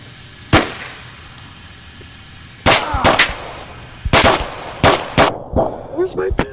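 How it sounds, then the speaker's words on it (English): Pistol gunshots in the VR game Onward during a one-on-one duel, several loud sharp cracks with a single shot first, then quick clusters of shots with clanking between them and no talk over them. "we shoot till one of us is down"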